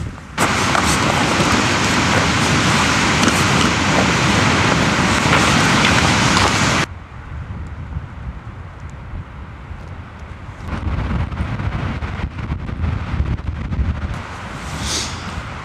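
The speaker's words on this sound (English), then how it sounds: "It's super windy." Strong wind on a hike in Glacier National Park roars and buffets loudly for several seconds, then drops to a quieter gusty rush that rises again in bursts.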